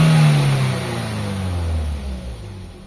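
Engine of a 2016 Toyota Vios with an idle that drops when the brake pedal is pressed, heard up close as a steady hum with a falling low drone, no talk over it.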